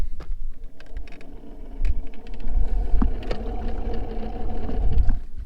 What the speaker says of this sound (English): that is a grinding sound